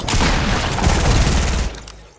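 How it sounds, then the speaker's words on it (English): Submachine gun in Fortnite unloading a loud, close, continuous rapid burst that rattles for about a second and a half, then stops abruptly, leaving a fading tail. "A little tap with the SMG."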